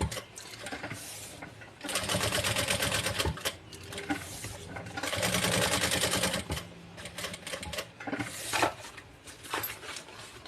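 Sewing machine stitching fabric close to the edge of a fabric pencil case, the rapid mechanical whirr coming in several bursts of a few seconds each with brief pauses between.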